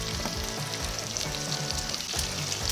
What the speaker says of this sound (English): cook your bacon however you want.